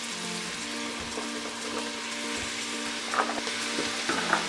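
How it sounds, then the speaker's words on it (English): Onions, carrots and celery sautéing over medium heat for a lobster bisque, giving a continuous close sizzle with light stirring scrapes and a few utensil clinks near the end. "we're gonna saute onions, carrots, and celery for about 5 minutes"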